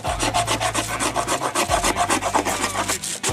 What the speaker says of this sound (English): See how many shavings you can get on the wood.